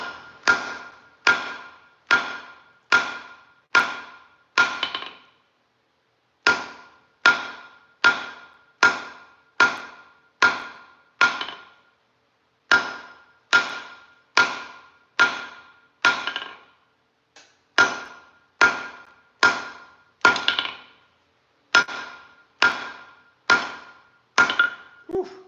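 A heavy blacksmith's hammer pounds hot steel on an anvil while forging V-bit tongs, striking in steady runs of about six to seven loud blows separated by short pauses, with no talk.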